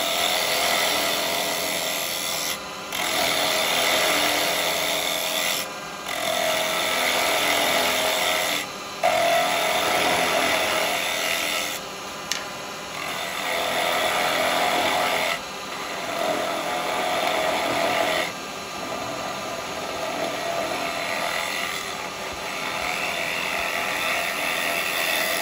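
A chisel cuts a small wooden pot turning on a lathe, giving a steady scraping and hissing drone in long passes with brief pauses between cuts.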